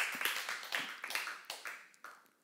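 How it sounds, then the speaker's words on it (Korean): Scattered hand claps from a small church seminar audience come in several quick bursts, each fading, fairly faint and sparse. "박수를 하나 주세요."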